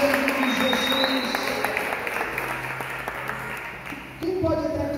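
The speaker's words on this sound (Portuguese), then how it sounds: "Renda palmas ao Senhor" Congregation in a church gives a sustained, dense round of applause under a voice speaking over it, with the crowd noise swelling briefly near the end.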